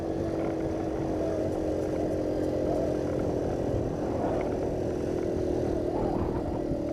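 Small Honda PC50 moped engine labouring up a steep hill, giving a steady, strained drone that holds at one level for the whole stretch with no one talking.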